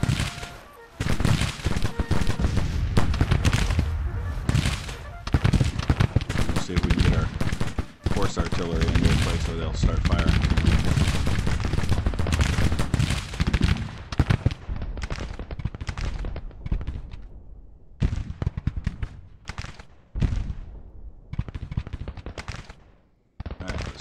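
Dense, sustained volleys of Civil War musket gunfire from a battle in Grand Tactician: Civil War, with loud crackling shots packed continuously, then thinning into scattered bursts toward the end.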